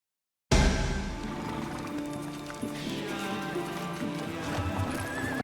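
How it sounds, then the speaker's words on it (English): A horse in a fantasy TV drama clip-clops steadily and neighs, the hoofbeats and whinnying starting abruptly after a brief silence and continuing loudly and close throughout. "Steppen leading Karini's horse"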